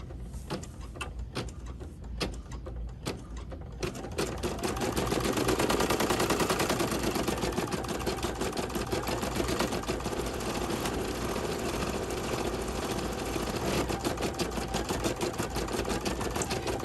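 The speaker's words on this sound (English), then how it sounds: "it's doing the underlay so that the stitching, the final stitching that goes up top will be very nicely done" An embroidery machine stitches the underlay of a key fob in a fast, even rapid-fire needle chatter that starts sparse and scattered, then settles into a loud continuous mechanical rattle for the rest of the stretch.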